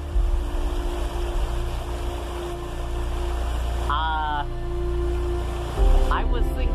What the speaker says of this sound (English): I can't even get across the stream if I wanted to.